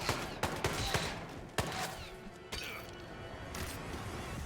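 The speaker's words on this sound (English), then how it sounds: "Anybody hear those gunshots?" Gunfire in the Hitman 2 video game: several sharp cracks fired in separate bursts over a steady background, fairly loud with no talking.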